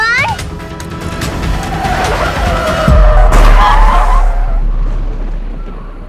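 A car brakes suddenly on an empty road, tires skidding in a loud squealing screech that swells and then settles, with a heavy low thump partway through and a voice exclaiming at the start.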